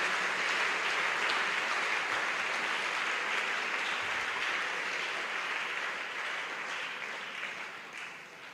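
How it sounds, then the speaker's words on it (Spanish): A church congregation breaks into sustained, loud applause, a dense wash of clapping that fills the space for several seconds before easing slightly toward the end. "Dele fuerte ese aplauso"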